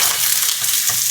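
Onion dropped into hot pork lard sizzles and fries steadily in a pan, a dense hiss that stays loud and even throughout with slight swells, no voices.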